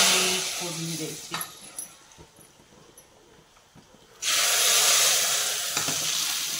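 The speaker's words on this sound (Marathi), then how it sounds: "त्याच्यावर अशी तरतरी फोडणी द्यायची" Hot phodni tempering is poured over freshly cooked chakolya (varan phal), setting off a loud, bright sizzle that bursts in suddenly and holds steady after quieter stirring and clinking.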